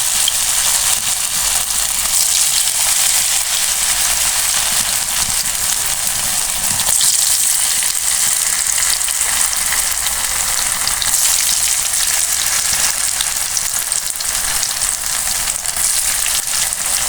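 Crispy potato pieces, lightly coated in cornflour, fry in hot oil with a loud, dense, continuous sizzle and crackle throughout, no voices over it.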